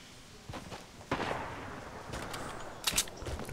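Sharp gunshots in the Fortnite battle royale, a few scattered cracks, some near and some distant, over a low game ambience with no talk.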